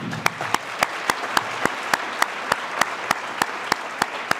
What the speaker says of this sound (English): I would like to give them one more round of applause if we could